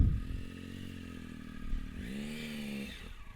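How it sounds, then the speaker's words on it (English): A motorcycle engine idles with a low, steady rumble, then revs up briefly before settling, close by with no talking. "That's how you crank up the motorcycle."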